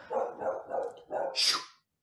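A pet dog barks close by in a quick series of about five sharp barks, the last one higher and yelping, with no talking over it.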